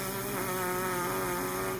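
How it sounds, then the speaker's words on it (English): Lips buzzing steadily as trumpet practice, a continuous nasal, insect-like drone with a fixed low pitch and bright overtones, held evenly throughout without pause. "you're going to try to buzz your lips"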